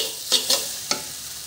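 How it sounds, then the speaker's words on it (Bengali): Onions being stirred with jute greens frying in a pan, three short scraping strokes of the spatula over a faint steady sizzle. "এই যে পেঁয়াজগুলো আমি দিয়ে নেড়েচেড়ে কিছুক্ষণ নেড়েচেড়ে আমি নামিয়ে নেব।"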